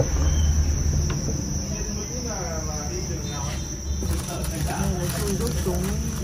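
Dense, continuous high-pitched chirping of crickets kept in a heated rearing cabinet on a cricket farm, steady and shrill throughout, while someone talks over it.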